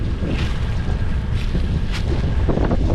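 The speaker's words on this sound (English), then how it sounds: "Sorry about the wind." Steady, heavy wind buffeting a microphone, producing continuous low rumbling and roaring gusts throughout.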